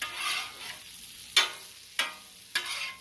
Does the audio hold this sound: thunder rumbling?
no